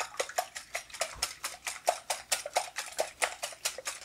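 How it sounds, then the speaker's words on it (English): A whisk beats eggs in a bowl for a zucchini and Parmesan casserole, a fast, even rhythm of sharp clicks, about four strokes per second, close and clear with no talking. "I'm basically going to whisk up the eggs."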